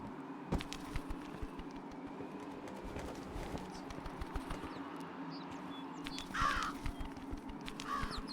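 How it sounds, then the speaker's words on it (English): Crows caw outdoors in a few harsh bursts, moderately distant and fairly quiet over a low steady background hum. "We have crows here and they're so loud and annoying."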